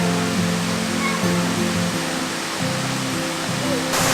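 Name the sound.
small waterfalls along a hiking trail to Kondalilla Falls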